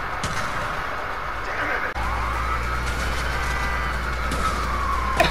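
A car driving in the co-op video game A Way Out, a steady engine hum and road rumble throughout with tyre whines and a brief dip in the middle, no talk.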